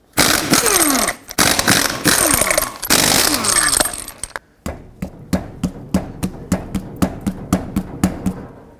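A 21mm socket on a power impact wrench takes off six wheel lug nuts, with loud bursts of rattling hammering, then a fast, even series of sharp clacks close by.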